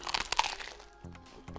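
Close, crisp crunches from teeth biting into a heavy homemade breaded, cornflake-coated fried burger, a quick cluster of sharp cracks followed by softer chewing.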